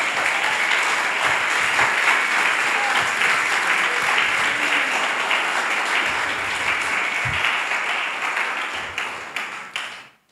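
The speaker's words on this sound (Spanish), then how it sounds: "Dale un fuerte aplauso a Jesús." A church congregation gives sustained, loud applause, dense clapping from many hands holding steady for several seconds before tapering off and fading out at the end.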